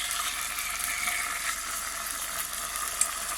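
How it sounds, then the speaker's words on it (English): Thin marinated pork slices for Portuguese bifanas frying in a pan, a continuous bright hissing sizzle, close and even, with a single small tap near the end and no talking. "we're going to fry them one by one, or two by two,"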